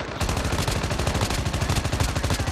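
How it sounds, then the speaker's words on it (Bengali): Rapid automatic gunfire in Call of Duty Mobile, a loud, continuous burst of evenly spaced shots rattling close by for the whole stretch. "কে যেন ফায়ার করছে।"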